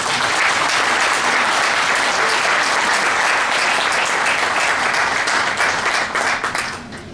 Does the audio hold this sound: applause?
yes